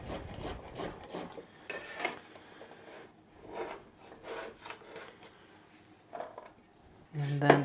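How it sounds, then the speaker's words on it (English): A knife slices vegetables finely on a cutting board, making repeated soft scraping and chopping strokes in an uneven rhythm, close and fairly quiet, ending with a louder knock. "I'll just cut them into little slices again, nice and fine"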